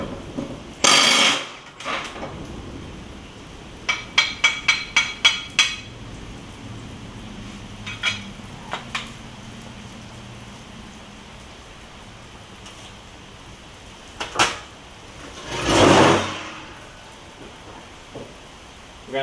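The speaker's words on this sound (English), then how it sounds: "pull the spindle off and hammer it out" Someone hammers out the spindle of a John Deere X300 mower deck, landing a quick run of sharp metallic blows and then a few scattered strikes between longer pauses, with brief rustling and handling noise in between.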